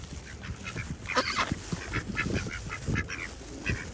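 Ducks and geese at a windy lake give scattered quacks and honks, several short calls close by over a steady wash of wind and water.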